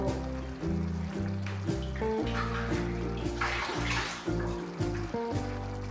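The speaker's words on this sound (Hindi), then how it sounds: "थोड़ा सा हम इसमें पानी ऐड करेंगे ताकि ये थोड़ी सी और गल जाए।" Less than half a cup of water splashes and gurgles into a pot of cooking chana daal, a close, continuous pour over a steady tonal background.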